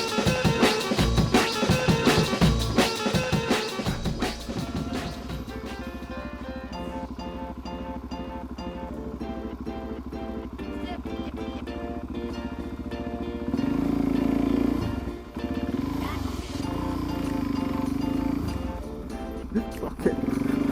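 Motorcycle riding past at close range, a steady engine drone with a revving surge midway, loud and continuous with some wind rush and no talk over it.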